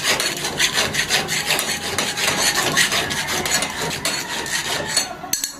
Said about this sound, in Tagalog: Nililinisin ko gamit yung pangkikil.